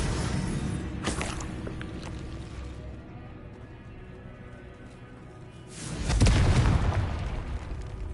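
A Confringo fire spell bursts in Hogwarts Legacy, a loud blast swelling suddenly near the end after a brief earlier pop over a low, rumbling game background.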